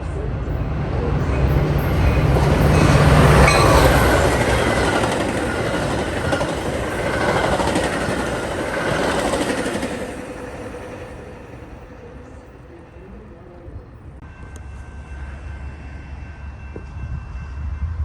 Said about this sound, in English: BNSF train number 1276 to Chicago Union Station is now arriving.